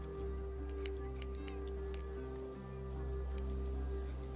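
Scissors in The Walking Dead video game make a series of sharp, crisp snips at an uneven rhythm over a steady low hum, quiet and close, with no voices.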